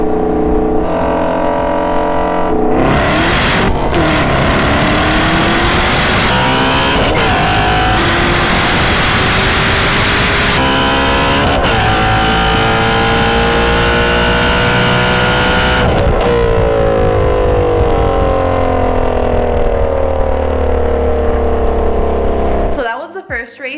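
A 2019 Camaro ZL1 1LE and a 2018 Shelby GT350 roll racing, loud engines revving hard through rising gear pulls with shifts, then fading, under a speaking voice.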